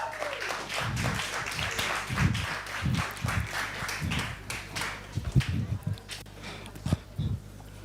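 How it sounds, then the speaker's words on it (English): Audience clapping at a live poetry performance, light scattered handclaps in uneven bursts from a modest crowd, with some voices and low thumps mixed in. "A round of applause for Hope."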